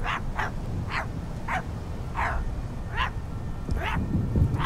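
Repeated sharp barks from dogs in the horror video game My Friendly Neighborhood, about eight evenly spaced yaps over a steady low background hum, moderately loud and without talk.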